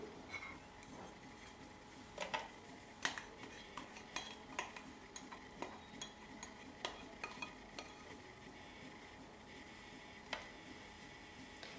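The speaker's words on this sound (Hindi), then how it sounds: "और इसको हम विस्क करेंगे स्मूथ होने तक" A whisk works through yogurt in a dish for a carrot and pomegranate raita, giving soft, irregular clinks and taps of metal against the bowl over a quiet stirring hush.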